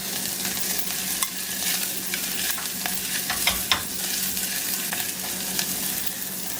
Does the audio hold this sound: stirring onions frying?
yes